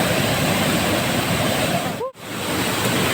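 Gabaldon Falls on the Dupinga River in Nueva Ecija pours down in a loud, continuous roar of falling water that fills the scene, briefly cut by a short dip with a faint tonal chirp.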